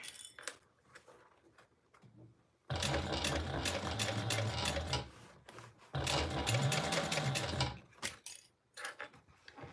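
Sewing machine stitching around the edge of fabric to attach a back panel: two long, loud stretches of fast mechanical whirring, separated by short pauses and ending in brief spurts, up close with no speech.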